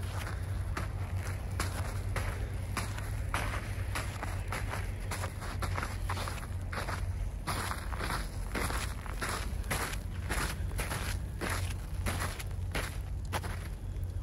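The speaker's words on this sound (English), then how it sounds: "There's like a heavy crust now, and you can hear sound on my boots." Boots crunching over a heavy crust of snow on a highway in bad weather, steady close footsteps at a brisk regular pace with sharp crackly impacts and a constant low rumble underneath.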